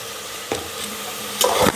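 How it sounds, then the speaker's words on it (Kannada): Vegetables with salt and turmeric stirred in a pan while cooking: two short scraping strokes of a spoon over a steady soft sizzle, close and with no talk. "ಈಗ ಉಪ್ಪು ಮತ್ತು ಅರಿಶಿನ ಎರಡೂ ಹಾಕಿಬಿಟ್ಟು ನೀಟಾಗಿ ತಿರುಗಿಸ್ಕೊಳ್ಳೋಣ."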